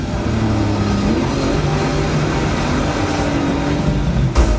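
A rally car engine in the racing video game Dirt 2 revs loud and steady with a continuous throaty roar throughout, ending in a brief sharp knock.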